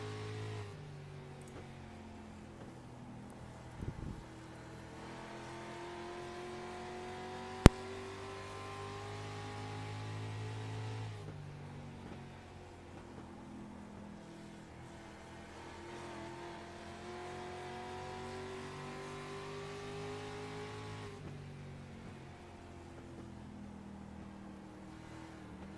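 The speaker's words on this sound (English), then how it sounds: "listen to the inside of these cars a little bit" Street stock race cars circling Myrtle Beach Speedway, heard from inside the car: a steady, close engine drone with rising and falling revs as the car laps, plus a brief knock early on.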